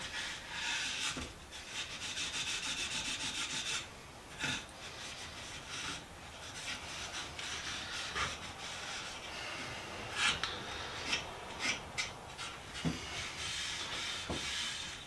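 Sandpaper rubs over a wooden mid-century modern coffee table in long, steady strokes, a continuous close hiss with occasional knocks and short pauses between passes.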